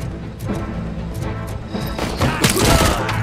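In the Robocop: Rogue City video game, a quick burst of gunfire is followed by a loud, crunching burst as an enemy's head explodes, with dense impacts over the final second.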